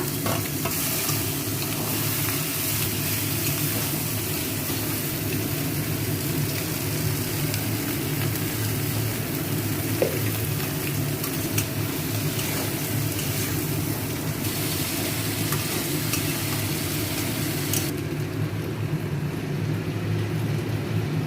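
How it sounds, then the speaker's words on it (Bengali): Loud, steady sizzling of panch phoron, onion and chili frying in hot fish-frying oil, with occasional stirring scrapes, continuous throughout and no talking. "মাছের তেলটা ভাজা হয়ে গেছে, এবার ফোড়ন দিচ্ছি, 5 ফোড়ন, পেঁয়াজ, লঙ্কা"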